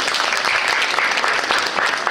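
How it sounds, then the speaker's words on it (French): Steady applause from the audience at a regional dance trophy selection in Brittany, dense even clapping throughout with no pause. "Applaudissements pour Laetitia,"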